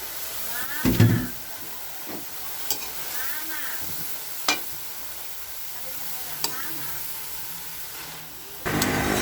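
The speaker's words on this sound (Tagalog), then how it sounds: "Isunod na natin ilagay ang toge or mung beans." Mung bean sprouts sautéing with shrimp in a hot pan for Filipino ginisang togue: a low, steady sizzle broken by a few sharp stirring clacks and scrapes, with a louder burst of frying near the end.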